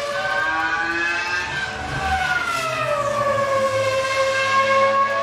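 A loud V8 Formula 1 car screams past, its high-revving engine note rising and falling in pitch as it shifts through gears, with the engine heard alone and no talk.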